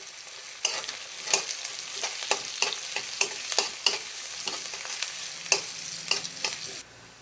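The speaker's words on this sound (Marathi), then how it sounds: "एक मोठ्या आकाराचा कांदा असा बारीक चिरलेला, त्याला आपल्याला सोनेरी होईपर्यंत फ्राय करून घ्यायचं आहे." Finely chopped onion frying in a pan until golden, a continuous bright sizzle with regular stirring clicks and scrapes throughout, close and moderately loud, ending abruptly.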